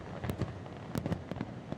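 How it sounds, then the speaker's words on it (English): Fireworks bursting around the 4th of July, a few sharp cracks and pops scattered over roughly two seconds, faint and distant against a low background hum. "Fireworks and the 4th of July"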